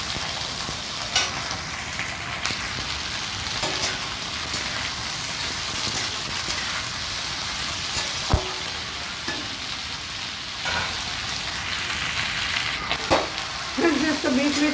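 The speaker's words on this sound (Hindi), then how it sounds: "अब कटे हुए कुंदरी को इसमें तेल में डाल देंगे। और इसको अच्छे से चलाएंगे।" Chopped tindora (kundru) fries in oil with a steady close sizzle, punctuated by occasional scraping knocks as it is stirred, no one speaking.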